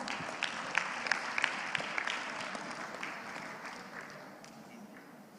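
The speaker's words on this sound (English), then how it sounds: "Let's give him a big round of applause." Audience applause at a conference on plastic pollution, a steady, moderately distant wash of many hands clapping that slowly fades over several seconds.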